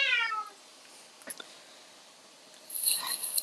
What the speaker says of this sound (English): Sorry, my second cat.